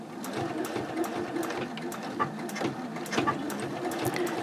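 A sewing machine fitted with a quarter-inch foot stitches a seam on a fabric pouch in a steady, close, rapid mechanical hum with light ticking, continuous throughout with no talking.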